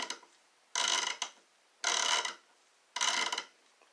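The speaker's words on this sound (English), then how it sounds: "That's a decent ratchet right there." An Icon Gen 2 half-inch drive locking flex-head ratchet clicking close up: three separate bursts of rapid, loud ratcheting, each lasting about half a second, with quiet pauses between them and no talking.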